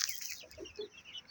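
A black rooster on a poultry farm clucks in a few short, close calls against a quiet background.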